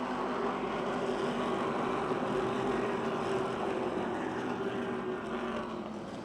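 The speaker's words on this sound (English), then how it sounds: "Kostelnik jumps on the loud pedal, opens up a 2-car length advantage over Shipp at the wave of the green with 15 laps to go." Race cars at Motordrome Speedway during a 2006 race restart, a dense continuous roar of several engines at full throttle, loud and sustained without pause, with the field running close together.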